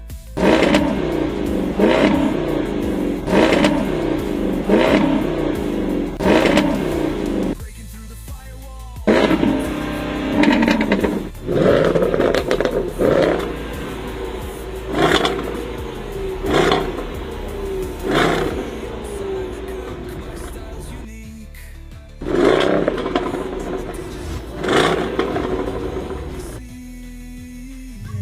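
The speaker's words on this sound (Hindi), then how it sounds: "V8 इंजन की दहाड़ आप यहाँ पर सुन सकते हैं।" A supercharged 5-litre V8 in a Land Rover Defender roars through a series of loud revving bursts, each swelling and falling away, with brief lulls between the deep, throaty blasts.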